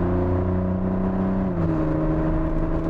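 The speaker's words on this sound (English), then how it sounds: "V6s really benefit from the reverberation of titanium. Gives it a very exotic exhaust note." A smooth, droning V6 titanium exhaust note holds a steady idle with a slight pitch dip midway, close and loud, with no voices.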